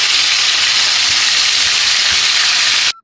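Fish fries in hot cooking oil, a loud, dense, steady sizzle and hiss close to the microphone that cuts off abruptly near the end.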